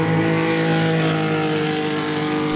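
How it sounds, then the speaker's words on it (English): Porsche 906 racing car's engine holding a steady, loud, sustained drone with strong harmonic tones during a Group 5 and 7 warm-up session at Summit Point, West Virginia, close and continuous with no talk. "This is the Porsche 906 of Henry Payne."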